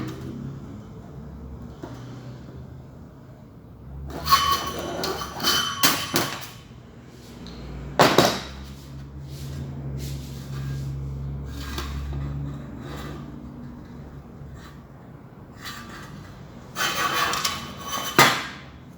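Sheet metal being bent with sheet-metal bending pliers while forming 3D letters, heard as a few bursts of clanking, scraping metallic clicks and knocks, close by, separated by quieter gaps.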